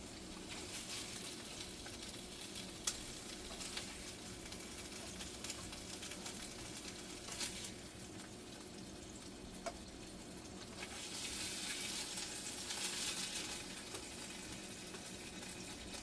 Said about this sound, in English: put the meat over on the frying pan